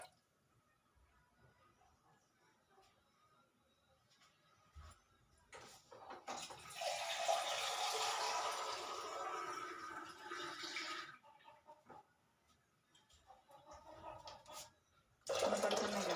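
Water is poured into a bowl in a kitchen setting, a soft splashing rush lasting several seconds, then a second brief pour, with quiet handling sounds before and between.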